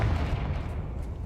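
A booming Confringo fire spell blast in a wizard video game, a dense, heavy rumble that stays loud and sustained for just over a second.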